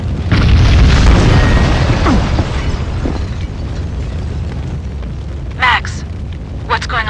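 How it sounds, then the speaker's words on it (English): A building packed with explosives blows up in a loud, deep boom that rolls and rumbles for several seconds before fading, with shouted voices breaking in near the end. "The building's blowing up."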